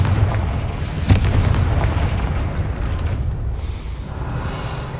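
A Confringo fire spell explodes in the Hogwarts Legacy video game, giving a loud deep boom that rolls into a sustained rumbling blast with no talk over it.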